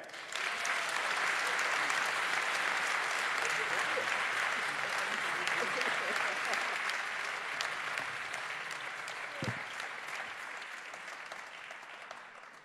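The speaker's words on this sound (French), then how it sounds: "je vous demande d'applaudir, s'il vous plaît, Monsieur le sénateur, Maître Spinner" An audience at a public debate on democracy applauds a senator, with warm, dense clapping filling the room for over twelve seconds at a steady level and only slowly fading toward the end.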